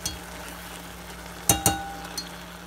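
Tomato sauce for hot dogs simmers and sautés in a pan with a soft, steady sizzle, punctuated by a few sharp clinks of a utensil against the pan.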